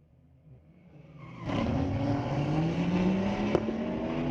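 A street-legal BMW drag race car accelerating at a raceway, its engine starting faint and then surging into a loud, steady climbing roar with rising pitch.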